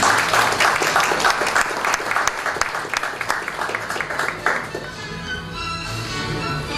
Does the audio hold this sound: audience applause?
yes